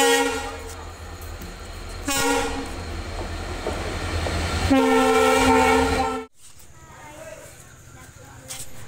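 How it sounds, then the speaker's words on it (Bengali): A train rumbles in loudly with clattering wheels and screeching brakes, a horn-like tone sounding, then the noise cuts off abruptly into quieter station ambience. "একটা ট্রেন আসছে, এটা তুলবেন, এই ট্রেনে যাবো না"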